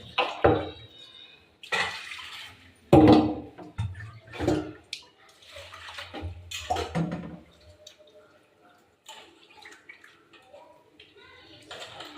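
Water pours and splashes into a pot in short bursts, with a person talking over the sound.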